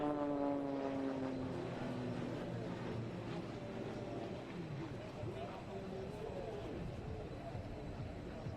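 An aerobatic plane with a Lycoming 580 engine of about 340 horsepower passes overhead at an airshow, its drone sweeping and shifting in pitch as it goes by, with crowd noise and talk underneath.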